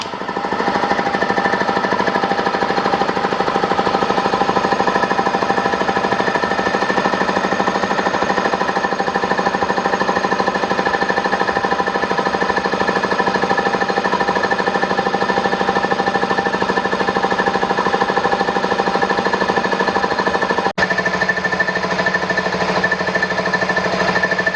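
A Kobalt XC602000 60-gallon, 175 PSI air compressor runs steadily, giving a loud, continuous mechanical hum and rapid knocking drone that holds level with only a brief dip near the end.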